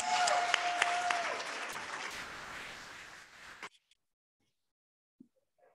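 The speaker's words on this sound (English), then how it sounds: "Just one applause before we start off with everything." A room of women applauds in welcome at the opening of a meeting, a dense, loud burst of clapping that thins out and stops abruptly partway through, leaving near silence with a couple of faint knocks.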